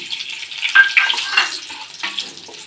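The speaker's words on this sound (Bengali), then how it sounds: "ওই তেলের মধ্যে আমি দুটো তেজপাতা দিয়ে দিলাম আর লবঙ্গ এলাচ আর দারচিনিটা" Bay leaves, cloves, cardamom and cinnamon crackle in hot oil while Bengali-style shahi paneer is prepared. The sizzle is loud and close, hissy and uneven, with small popping bursts and no talking.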